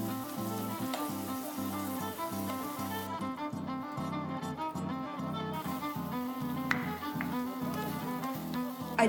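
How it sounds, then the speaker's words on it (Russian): Ingredients fry in oil in a heated pan, giving a steady, soft sizzle under background music, with occasional light taps. "В разогретую сковороду наливаем масло и добавляем все ингредиенты."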